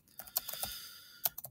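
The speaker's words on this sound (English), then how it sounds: "I'm just going to type something in here" Brief, quiet burst of computer keyboard typing, a quick irregular run of close key clicks with a short pause in the middle.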